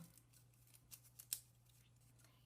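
Scissors snip notches through layers of folded paper, giving a few quiet, separate crisp cuts against a faint low hum.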